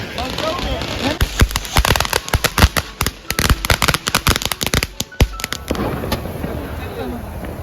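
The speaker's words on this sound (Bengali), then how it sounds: "দেখো বম ফটাকা, বম ফটাকা।" Firecrackers burst at a New Year's Eve celebration in America, a rapid, irregular volley of sharp bangs and crackles nearby, with people's voices mixed in between the pops.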